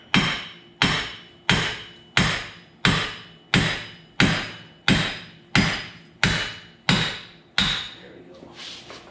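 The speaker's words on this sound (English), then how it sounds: "Those big hammers, they are handy." A big hammer pounds on a stuck wheel bearing and axle, eleven loud ringing metallic blows at a steady rhythm about once every three-quarters of a second, each decaying before the next.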